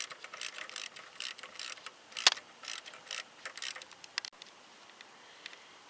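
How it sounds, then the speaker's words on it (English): A 15 mm socket on a ratchet wrench loosens a bolt on a 1996 Jeep Cherokee Sport during power steering pump belt removal. Quiet, close, rhythmic clicking comes in short bursts, then stops, leaving faint ticks. "So I got a 15 millimeter socket, and I'm just going to screw this until the belt is loose."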